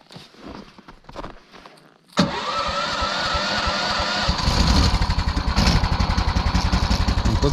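A cold car engine, stalled in the taiga during a winter fishing trip, cranks and catches after a brief quiet moment, then settles into a loud, steady idle with a rhythmic pulsing, close by.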